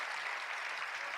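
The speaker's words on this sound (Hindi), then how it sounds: "कम से कम तो अच्छी तालियां तो बजनी चाहिए।" Sustained applause from an audience at a Jain sermon, a steady, fairly quiet and even patter of many hands clapping throughout, with no voices over it.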